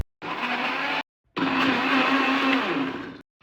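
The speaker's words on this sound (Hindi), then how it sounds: "तो ग्राइंड करने में अपने बिल्कुल सामने वाले रूम में आ गई और मैंने डोर क्लोज़ कर दिया क्योंकि ये बहुत नॉइज़ करता है।" An electric grinder runs in a closed room in two loud, steady bursts with a short pause between, its motor whine holding a constant pitch.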